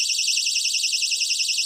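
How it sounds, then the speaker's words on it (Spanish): A homemade PIR motion sensor alarm sounds a steady, loud high-pitched electronic buzzing tone with a fast warbling pulse, continuous throughout and alone. "Es una alarma con sensor de movimiento."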